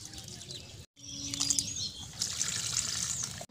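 Water splashing and trickling onto garden plants, a steady outdoor wash of sound after a brief pause, with birds chirping faintly in the background.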